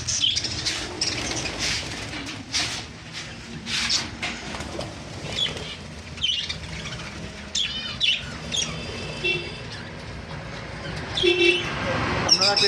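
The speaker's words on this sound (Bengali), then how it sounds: "এটা আমার নিজস্ব পাখি দোকান আমার কাছে আছে এইসব পাখি" Pet birds in a bird shop, including cockatiels, doves, lovebirds and budgerigars, make repeated bursts of wing flapping mixed with chirps and soft coos, close by and lively, with a busy cage-room clamour in the background.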